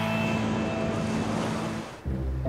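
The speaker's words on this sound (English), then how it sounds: "The ocean is sure making waves on the Gold Coast." Cartoon ocean surf rolls along a Gold Coast beach, a continuous loud wash of breaking waves with wind-like hiss that cuts off abruptly near the end before a low hum.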